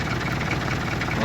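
An old Land Rover Defender engine idling nearby, a steady low rumble with a faint knocking vibration throughout.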